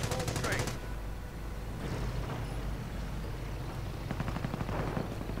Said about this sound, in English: Stormtroopers getting shot up.